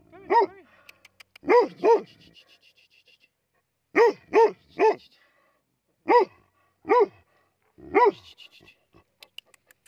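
A dog barks about nine times in short clusters of one to three sharp barks, close and loud, with brief silences between.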